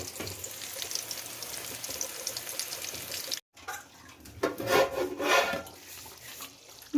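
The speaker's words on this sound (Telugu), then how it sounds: "ఇప్పుడు మా వంకాయ పోపుకి వేసుకోవడమే" Brinjal pieces frying in a hot spiced oil tempering, a steady close sizzle with scraping and stirring that swells louder midway after a brief gap, with no talking.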